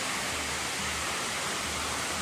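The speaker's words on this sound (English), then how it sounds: "Definitely the tallest waterfalls we've seen." Broad, steady roar of tall waterfalls spilling into a shallow pool in Bali, a continuous hiss of falling water with no voices heard.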